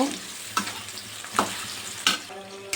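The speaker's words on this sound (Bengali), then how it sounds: "এবারে কেটে ধুয়ে রাখা আলু পেঁয়াজটা ভালো করে ভেজে নেব।" Potatoes and onions fry in a pan under a soft sizzle, with three or four distinct scraping stirs of a spatula spaced across a few seconds.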